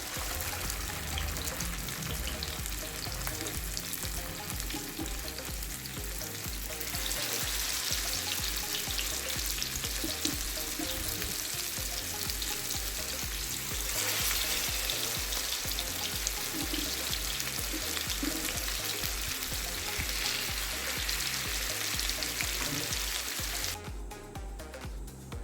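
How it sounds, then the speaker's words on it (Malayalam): Chicken fries in hot oil in a pan over full flame, a continuous dense sizzle and crackle that carries on evenly without any talking. "ആദ്യം നമുക്ക് ഫുൾ ഫ്ലെയിമിലിട്ട് ചിക്കൻ ഫ്രൈ ചെയ്തെടുക്കാം."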